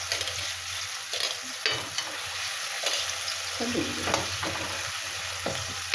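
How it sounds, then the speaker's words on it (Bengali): Fish going into a pan of boiling water while cooking a Bengali fish curry, giving a steady close bubbling hiss with a few soft splashes and stirring knocks, no talking. "এই জল ফুটছে, আমি মাছটা দিয়ে দেবো।"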